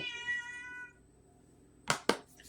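A cat gives one drawn-out, clear meow up close, then falls quiet before two sharp knocks or taps sound nearby.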